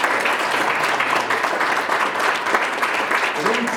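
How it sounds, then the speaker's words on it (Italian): Audience applause at a club's 30th anniversary celebration: a sustained, dense patter of many hands clapping together, with a murmur of voices mixed in. "La Enza Caselotto, vorrei un applauso per lei."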